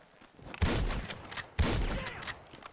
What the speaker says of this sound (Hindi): गोलियां चली?